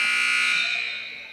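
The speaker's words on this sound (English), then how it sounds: "That's the buzzer." A basketball game buzzer at a championship-day high school tournament showdown, one loud sustained electronic tone held for the whole moment and slowly fading, with no talk over it.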